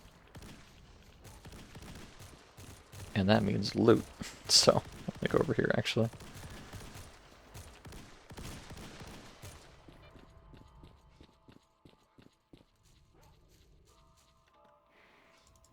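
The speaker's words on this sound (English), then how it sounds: "I hear gunfire." Distant gunfire in a S.T.A.L.K.E.R.-style survival game, a scattered volley of pops and bursts ringing out across open ground, fading into quiet ambience while someone talks casually over it.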